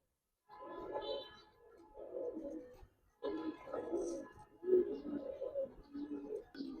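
A pair of old-breed flock pigeons coo in repeated low, rolling bursts separated by brief pauses, close by and moderately soft, with a short silence before the calls resume.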